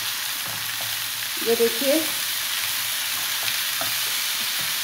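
Chicken leg tikka sizzles steadily in oil in a greased pan. The frying hiss runs continuously and close, and a brief voice speaks over it near the middle.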